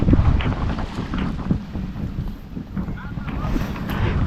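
A small fishing boat on a river near Monpura island gives a steady low rumble mixed with heavy wind buffeting across the microphone, continuous and close for several seconds.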